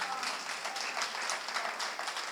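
An audience applauding at a Hindi poetry gathering (kavi sammelan) in Lalitpur, a brief burst of dense clapping heard from a distance, fairly soft and even throughout.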